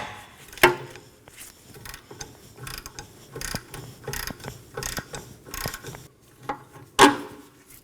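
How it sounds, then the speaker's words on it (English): A ratchet working loose an 18mm lower shock bolt on a 2015-2023 Nissan Maxima, rapid clicking pawl bursts with two sharp metallic knocks, close and alone. "find a 18mm bolt. Go ahead and remove that. I'm going to break it loose."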